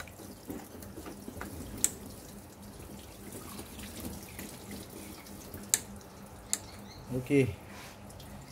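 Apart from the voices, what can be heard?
coolant water draining from Mercedes W210 radiator pipe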